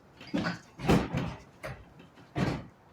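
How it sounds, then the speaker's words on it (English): A door is being taken off an old 1948 Willys pickup, heard as a series of loud, close metallic clunks, thumps and scrapes coming in irregular bursts, with no talking. "That door is coming out right now."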